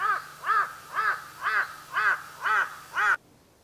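A crow caws seven times in a steady, evenly spaced series, loud and fairly close, then falls silent.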